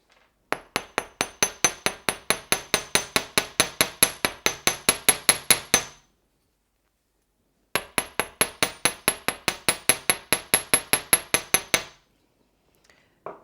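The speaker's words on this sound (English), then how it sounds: "now I'm going to hammer the clasp to tighten it and to flatten it" Rapid, evenly spaced metallic taps of a small hammer on a necklace clasp ring out in two long bursts of about two dozen strikes each, separated by a short pause, close and crisp.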